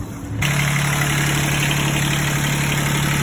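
A steam engine driving a turning propeller kicks in abruptly after a quiet moment and settles into a steady, loud mechanical drone with a strong low hum.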